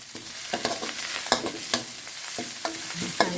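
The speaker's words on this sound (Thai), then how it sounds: "เดี๋ยวเราผัดเครื่องแกงให้หอมค่ะ" Thai curry paste stir-fried in a pan over medium heat: a spatula scrapes and clacks against the metal again and again in an uneven rhythm over a steady, close sizzle, with no voices.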